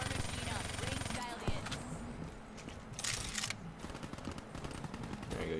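Gunfire from the video game Black Ops 3 in bursts and single shots under dense game sound and music, with a louder crackling burst near the middle.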